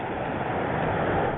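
Rushing water from waterfalls along Paulina Creek trail forms a continuous, loud, even roar with no pauses or voices, heard up close for a brief moment.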